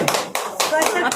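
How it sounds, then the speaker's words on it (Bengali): Quick bursts of hand clapping at a family gathering, a few short loud rounds in a second, closely miked and dry, with no other sound between the claps. "হাততালি, হাততালি, হাততালি।"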